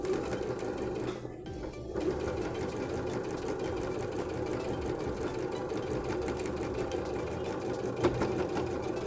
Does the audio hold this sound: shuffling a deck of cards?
no